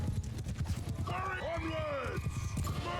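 Horse hooves clop rapidly in the Mount & Blade II: Bannerlord video game during a battle with horse archers, joined midway by a loud, wavering whinny, all close and busy.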